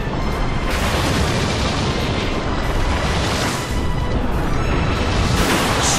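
The Surf attack in Pokémon Battle Revolution, a loud, unbroken roaring wash of water-like noise that fills the whole stretch with only slight swells, with no voices.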